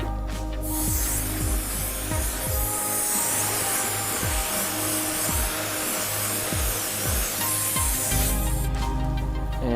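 Garden hose spraying water to rinse off a car headlight freshly polished with toothpaste, a steady broad hiss running several seconds with brief clatter at start and end, close by.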